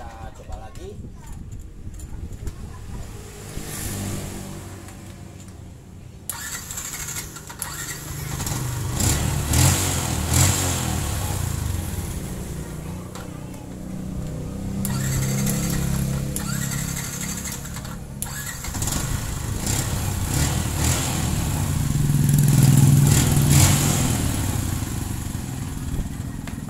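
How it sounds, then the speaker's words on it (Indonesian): Yamaha Jupiter MX motorcycle engine starting and revving: the engine catches, then rises and falls through repeated revs and idles close by, with people talking over it throughout. "motor Yamaha Jupiter MX ini bisa di starter kembali ya"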